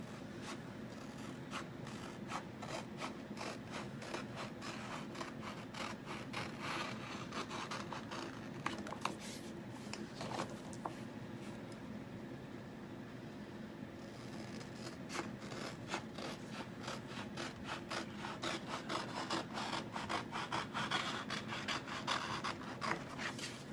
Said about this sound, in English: Okay, so I'm just going to go ahead and cut up the pieces.